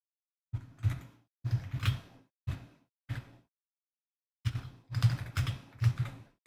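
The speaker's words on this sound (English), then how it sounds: "Stop typing that." Typing on a computer keyboard, close clusters of quick key clacks in short bursts with a pause in the middle, no talking.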